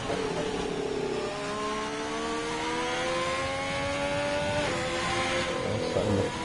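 Race car engine in a racing video game on an out lap with medium tyres, a steady rising whine with gear-change dips, continuous and fairly loud throughout.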